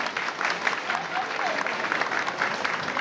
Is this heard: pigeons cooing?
no